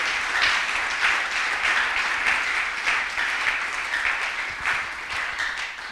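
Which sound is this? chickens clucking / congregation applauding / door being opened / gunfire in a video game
congregation applauding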